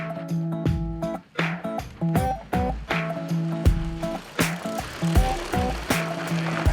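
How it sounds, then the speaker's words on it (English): A bicycle is ridden over rough outdoor terrain, with rattling, clanking impacts and bumps from the frame and drivetrain repeating irregularly, up close and fairly loud, with no speech. "Maybe not for us, but Joe cranks right through it."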